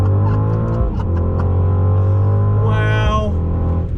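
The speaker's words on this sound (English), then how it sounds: "Here we go, launch control," A 2021 Mercedes AMG GLE 63 S SUV launches with launch control, its engine droning loud and close, briefly dipping in pitch at a gear shift, then surging again.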